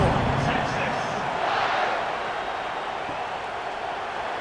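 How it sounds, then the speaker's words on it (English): Stadium crowd noise in a college football video game, North Carolina at Texas, a steady roaring buzz of fans holding at a loud level throughout, with a faint commentary voice underneath. "this crowd is buzzing after that last score"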